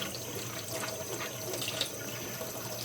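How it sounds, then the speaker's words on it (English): Dyed rabbit feet rinsed under a running tap, giving a steady, close hiss of flowing, splashing water with no one speaking. "so these ones we rinse out"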